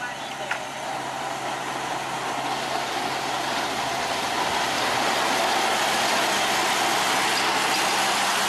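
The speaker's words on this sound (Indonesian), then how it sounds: "Coba kita lihat mesin dari lokomotif ini" The engine of the oldest locomotive at the PG Kedawung sugar mill runs with a steady, close, noisy rumble that stays even throughout, with no pauses.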